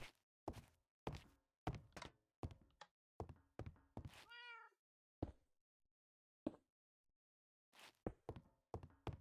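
A cat meows once, a short wavering cry amid a series of sharp, evenly spaced thunks and knocks, close and clear against near silence.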